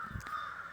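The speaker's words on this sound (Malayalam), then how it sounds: "പിന്നെ കാക്കകളും എല്ലാവരും കൂടെ പറന്ന് പോകുന്നുണ്ട്" A crow cawing outdoors at dusk, one short faint caw over a steady background hum.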